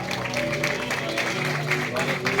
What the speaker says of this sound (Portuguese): Aplauda Jesus pelas suas vidas.